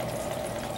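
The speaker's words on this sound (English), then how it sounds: "We got a little bit of a waterfall." Steady, soft rush of water spilling over a small waterfall in a model stream, a continuous close trickle with no talk.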